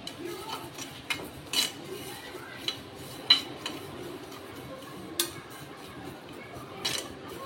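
Fenugreek, black cumin, mustard seeds and curry leaves frying in a pan for homemade hair dye, heard as faint scattered crackles and sharp utensil clicks against the pan over a quiet background.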